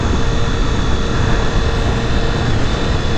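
A 2018 Triumph Street Triple RS three-cylinder motorcycle engine hums steadily while riding at low speed, mixed with broadband wind rush, continuous and loud with no voices.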